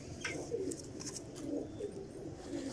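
Soft, low coos from domestic pigeons on a rooftop repeat steadily over a faint constant background, with a few quieter bird sounds mixed in.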